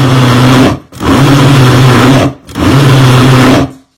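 A food processor purees garlic in two loud, steady motor bursts with a short pause between them, then cuts off; no one speaks.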